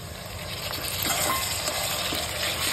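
Onion and tomato sauté in a pan, producing a steady close sizzle with faint stirring and bubbling, no voices heard.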